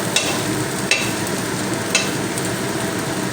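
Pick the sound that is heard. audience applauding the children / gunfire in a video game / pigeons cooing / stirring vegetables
stirring vegetables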